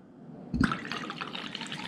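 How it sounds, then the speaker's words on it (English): Grand Marnier and tequila poured into a mixing cup for a classic margarita, a brief splash of liquid followed by a soft, close trickle. "I'm going to demonstrate for you pouring one ounce of Grand Marnier and two ounces of tequila."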